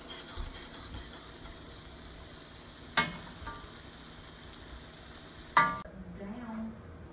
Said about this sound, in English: Oh, sizzle, sizzle, sizzle.